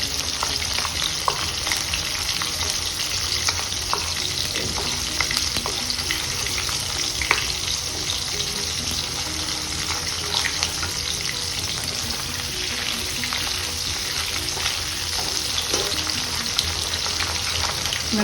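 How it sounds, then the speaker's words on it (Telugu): Urad dal frying in oil makes a dense, steady sizzle and crackle at an even loudness, with faint stirring scrapes now and then and no voices. "మినపప్పు వేగిపోయినాయండి"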